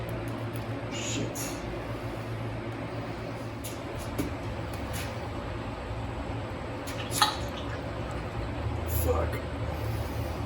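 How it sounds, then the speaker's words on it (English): Brake fluid trickling into the master cylinder of a Fox Body Mustang, with faint drips and small clinks scattered over a low background hum and occasional noises nearby. "I'm gonna put too much fluid in"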